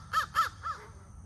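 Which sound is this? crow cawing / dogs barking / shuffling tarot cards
crow cawing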